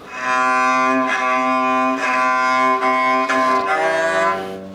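A bowed Viking lyre (talharpa) made of pine plays a sustained, droning melody with rich harmonics, steady and close, with slight bow changes every second or so.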